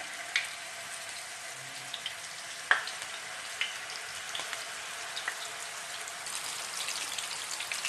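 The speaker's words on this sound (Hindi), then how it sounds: "उसके अंदर ये 1 बाय 1 हम ये शैलो फ्राई कर लेंगे।" Gola kabab pieces shallow frying one by one in a pan of hot oil over a medium-low flame give a steady, soft sizzle with scattered sharp pops and crackles throughout.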